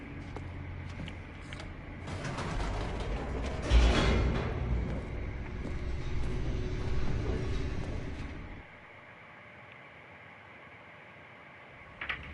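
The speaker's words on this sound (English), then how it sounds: "The elevator raced downward, plummeting towards an unknown fate." An elevator descending in The Stanley Parable game: a loud, rattling mechanical rumble that swells midway and runs for about eight seconds, then cuts off to near silence, with a small clunk at the very end.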